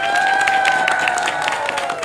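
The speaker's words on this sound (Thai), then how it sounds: "ขอเสียงปรบมือและส่งเสียงกรี๊ดดังให้กับกำลังใจซึ่งกันและกันครับพี่น้องครับ" A dense crowd at a Pheu Thai party rally in Chiang Rai claps and cheers steadily, with a sustained high-pitched whistle or shriek running over the continuous, loud applause.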